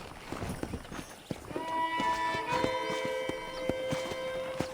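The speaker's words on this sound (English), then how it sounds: "I picked out a fine horse for you." Horse hooves clip-clopping in Red Dead Redemption on a ranch, quick irregular hoofbeats at moderate distance under a sustained musical tone, with no talking.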